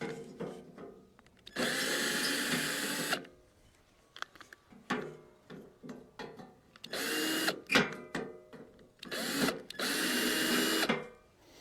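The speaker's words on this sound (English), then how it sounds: "It's got a couple of screws that I need to undo." A power screwdriver undoes screws on an old BBQ grill in several loud whirring bursts of a few seconds each, broken by quieter clicks, clatter and handling noises.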